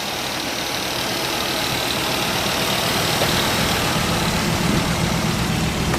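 A 1964½ Ford Mustang convertible engine idles steadily and smoothly, a continuous low rumble with no talking, close and even throughout.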